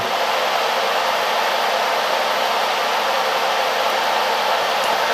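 A steady, loud whooshing cooling fan of a Hi-Cook IC-01 induction cooker runs continuously with no change, a broad airy hum close by.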